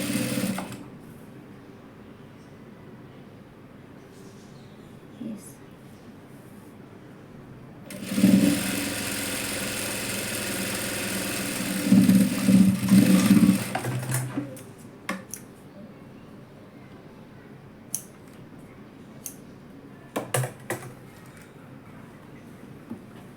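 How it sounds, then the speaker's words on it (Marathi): A sewing machine stitches a half-inch folded hem on leftover fabric for a dress, with quiet ticks and handling, then a loud continuous run of several seconds with brief pauses and short jabs afterward, with no talking. "अर्धा इंच तिकडं असं शिलाई मारून घ्यायचं."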